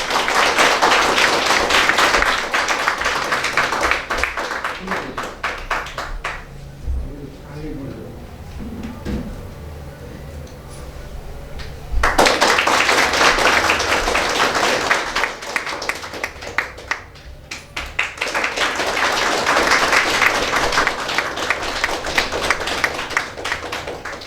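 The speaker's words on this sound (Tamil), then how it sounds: "உங்களுடைய கைகளை கொஞ்சம் தட்டி கொஞ்சம் ஆரவாரம் பண்ணுங்கள்" An audience claps to welcome a guest in two loud bursts of brisk applause separated by a quieter stretch where a voice speaks, with talk continuing faintly under the clapping.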